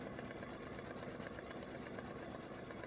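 An embroidery machine stitches a freestanding lace hibiscus flower, a steady, rapid mechanical whir with constant needle chatter that stays even and unbroken throughout, close by and alone.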